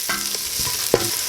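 A spoon scrapes through browned onions and curry powder in a hot saucepan, with a faint sizzle and a couple of short stirring strokes, one sharper knock near the end.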